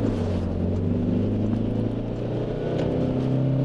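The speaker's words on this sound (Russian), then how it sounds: "Я бы сказал, что даже немножко натужно как-то разгоняется Fortuner." Toyota Fortuner engine pulling under acceleration on a highway, a steady low strained drone heard from inside the cabin, rising slightly as speed builds.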